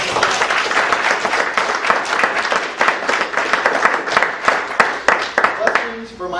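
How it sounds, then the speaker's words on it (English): At the end of a presentation, an audience gives a round of applause: many hands clapping loudly and continuously for several seconds, with a few sharper individual claps standing out before it tapers off. "All right, round of applause."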